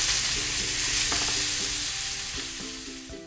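Ribeye steaks sear in a pan with a loud, dense, steady sizzle, and faint clinks of utensils against the pan come through now and then. The sizzle fades slightly toward the end.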